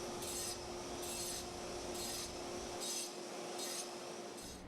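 Stone is cut and dressed with hand tools for a clock and spire restoration in Albany: about six steady, evenly spaced rasping strokes, close and alone with no voices.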